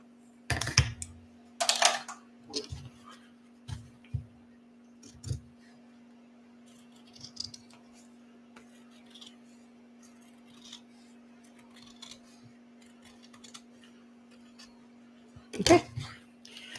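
Scattered sharp snips and clicks of scissors cutting fabric along a ruler line while sewing a bowler bag, a few close cuts at the start and again near the end, separated by quiet handling noises.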